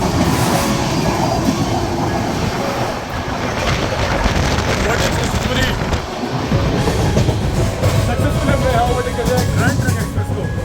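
Rajdhani Express overtaking the Telangana Express at Dabra: a loud, continuous rumble of passing train cars with rhythmic clatter and wind buffeting close to the microphone, steady throughout.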